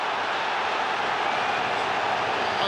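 A crowd of about 36,000 in a stadium at a World Cup qualifier between New Zealand and Peru, appealing for a penalty: a continuous loud roar of massed voices with no break.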